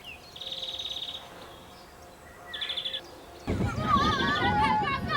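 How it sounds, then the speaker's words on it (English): Two bursts of high trilling birdsong, then a busier mix of chirps and warbling calls from several birds outdoors, clear and moderately close. "the only sound is that of birdsong"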